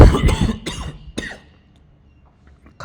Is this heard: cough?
yes